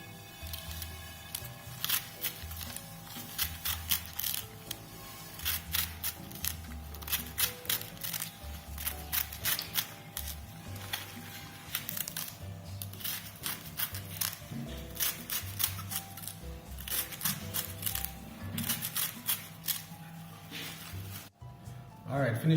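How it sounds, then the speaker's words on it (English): A knife slices through callaloo leaves held by hand rather than on a board, giving a quick series of crisp snipping cuts in steady rhythm, close and fairly quiet. "finish cutting up the callaloo now"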